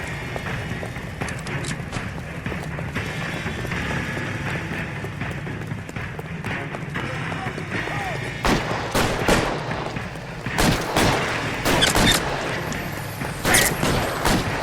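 A shootout in L.A. Noire: sharp gunshots crack out in scattered bursts, growing denser and louder toward the end, over running footsteps and background game noise.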